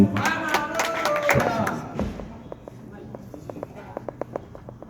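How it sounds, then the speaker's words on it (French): An audience applauds at a ceremony where committee members receive their notifications. The clapping is dense and fairly loud at first, then thins to scattered claps, with a voice speaking over it. "sous vos applaudissements"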